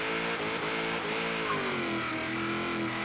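Engine of a Chevrolet Monte Carlo sleeper build in Forza Horizon 3, a high-horsepower gasser-style car, droning loud and steady with rising and falling revs for the whole stretch.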